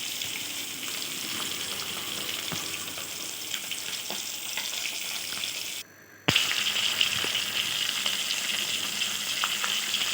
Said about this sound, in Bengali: দেখুন মাছগুলো আমার লাল লাল করে ভাজা হয়ে গেছে